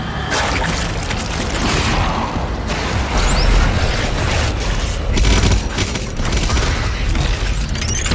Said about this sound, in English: Got another grenade, guys.